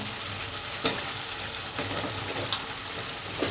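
Taro roots and potatoes sautéing in hot oil: a close, steady sizzle with a few sharp clinks and scrapes from stirring, and no talking.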